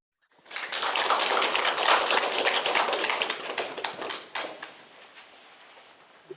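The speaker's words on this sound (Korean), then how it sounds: "다시 한번 열정적으로 강의해 주신 박사님께 뜨거운 박수 부탁드리겠습니다." An audience applauds a lecturer after a talk on future city master planning, with dense, close clapping that holds steady for about four seconds and then thins into scattered claps before fading.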